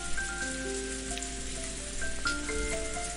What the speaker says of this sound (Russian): Где-то дождь шелестит, так уютно.